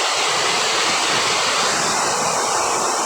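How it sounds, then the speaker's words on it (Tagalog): Heavy rain pours steadily during Typhoon Enteng in Biñan, Laguna, a loud dense hiss with no breaks and no voices. "Umuulan."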